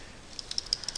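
Typing on a computer keyboard, a quick string of light, close key clicks in an otherwise quiet room.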